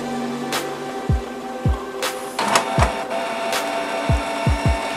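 Canon G3010 wireless inkjet printer powering up and priming ink into its tubes and cartridges, giving a series of close mechanical clicks, thuds and short whirring bursts at irregular intervals over a steady low hum.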